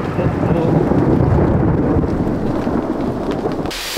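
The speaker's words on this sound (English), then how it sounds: "So we just had three lightning strikes really close to us." Thunder from lightning striking close by during a heavy rainstorm at an overnight bushcraft camp in the woods, a loud, sustained low rumble over dense rain, fading slightly near the end.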